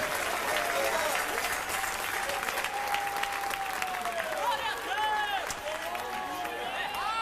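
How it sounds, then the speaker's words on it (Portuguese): A church congregation breaks into loud, continuous applause during a sermon, with cheers and exclamations rising above the dense clapping throughout. "Aplausos para o Rei da Glória"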